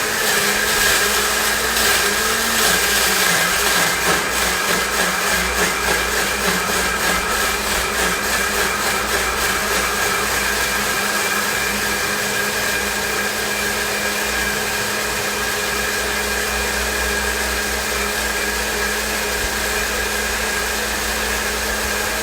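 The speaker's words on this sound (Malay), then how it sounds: "Kisar hingga halus ya" A blender grinds dried chillies and other ingredients with water, droning loud and steady at close range. A brief higher whine rises at the start, and the grinding then runs on unbroken with no talk.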